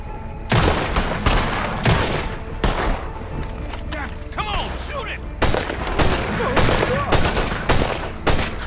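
Dense gunfire in the Western video game Red Dead Redemption II, loud rapid shots and volleys cracking close by in continuous bursts with brief lulls, with voices speaking between them.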